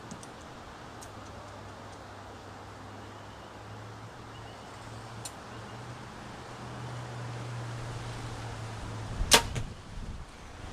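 An arrow from a Perform X 40-inch bow with a longer draw strikes the target outdoors in the wind, one sharp, distant crack near the end after a long stretch of steady wind hiss.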